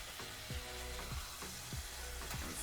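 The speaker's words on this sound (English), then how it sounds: "sear the other side for about 5 more minutes" Meat for ropa vieja sears in a hot pan, giving a faint, steady sizzle with a few soft low thumps spaced through it.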